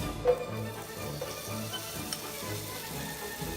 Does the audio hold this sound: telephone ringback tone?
no